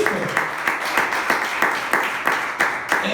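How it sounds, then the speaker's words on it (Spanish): Church congregation clapping in rhythmic bursts, a steady close applause with regular beats and some voices mixed in. "Denle un aplauso al Señor, gloria a Dios."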